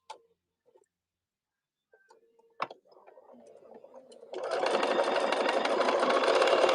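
Sewing machine top stitching on a scrap-fabric pin cushion: a few soft ticks and clicks, then the motor winds up into a steady, loud, rapid whirring run that continues to the end.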